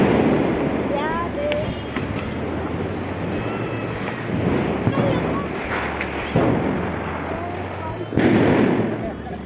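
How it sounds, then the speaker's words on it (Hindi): Diwali firecrackers bursting outside, a steady crackling din with repeated louder bangs roughly every couple of seconds over a dense background of festive noise and distant voices. "जगह जगह पटाखे छूट रहे थे और बहुत आवाज़ें आ रही थी"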